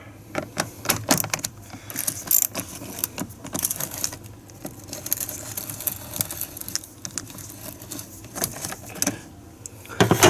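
An 8mm socket wrench ratchets to loosen the air cleaner clamp on a GMC Sierra or Chevy Silverado, giving close, repeated clicking bursts with metallic rattles throughout.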